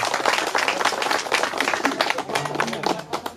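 An audience applauding artists at a live comedy and performance event, a dense patter of claps from a crowd with talking mixed in.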